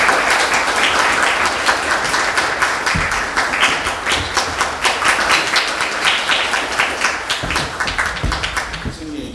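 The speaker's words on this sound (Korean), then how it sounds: "박수로 환영해 주시기 바랍니다" A book-concert audience applauds to welcome the guest of honour, photographer Bae Bien-u, at a Saturday event in Paju Book City; dense, sustained clapping from many hands fills the room, with a few louder thumps near the microphone.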